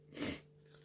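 A single short, breathy sneeze sounds close by in a quiet indoor room over a faint steady hum.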